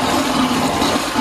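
Steady rushing, gurgling water with a low motor hum underneath as a bilge pump runs, triggered by a Seaflo 20A electric field bilge switch, continuous and close throughout.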